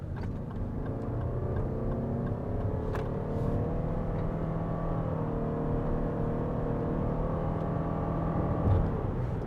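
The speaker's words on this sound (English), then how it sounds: "listen to that CVT. It sounds great, but it puts its power down very smoothly" Lexus RX 350h hybrid SUV with a CVT accelerating, its engine holding a steady, smooth drone with slowly rising tones that stays constant and fairly loud throughout, with no talking.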